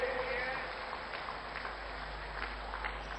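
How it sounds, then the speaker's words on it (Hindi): A rally crowd in Bastar district, Jagdalpur, claps steadily in a broad, dense wash of applause heard from a distance, continuous throughout without clear individual claps standing out. "आप सब ताली बजा करके मेरे इन सभी साथियों को आशीर्वाद दीजिए"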